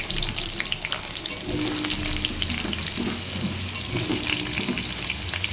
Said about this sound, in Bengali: তো দেখো তেলের মধ্যে আলুটা দিয়ে দিলাম